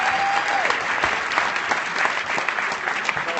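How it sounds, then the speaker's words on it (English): A crowd at an awards speech for The Giving Spirit claps steadily throughout, a continuous dense round of applause with no talk over it. "let's give another round of applause"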